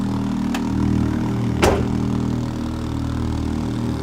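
A Mini car, fitted with a swapped non-original engine, idles steadily after a key ignition start, a close, even mechanical hum with one brief sharp click partway through.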